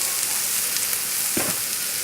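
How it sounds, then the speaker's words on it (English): A rack of veal sizzles steadily in hot peanut oil in a pan, a continuous close, bright crackle with a brief low thump of handling partway through. "You want to hear that sizzling, that sauteing."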